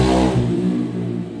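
An engine revs briefly nearby as it accelerates and then drops back to a lower rumble, heard over a steady background hum with no talk.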